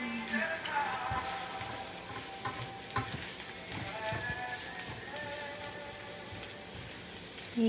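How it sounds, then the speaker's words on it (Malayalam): Ground roasted masala for an egg masala sautéing in a pan, a soft continuous sizzle with scraping stirs, fairly quiet and steady. "ഈ മസാലയുടെ പച്ചമണം മാറുന്നവരെ നല്ലപോലെ വഴറ്റി കൊടുക്കുക"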